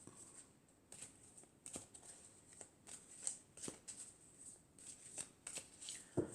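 Tarot cards are shuffled and drawn by hand, giving soft, irregular riffling and flicking taps across a quiet background with no talking.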